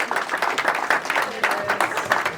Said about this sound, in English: Just for existing, he gets an applause.